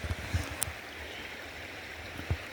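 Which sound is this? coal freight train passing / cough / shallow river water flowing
shallow river water flowing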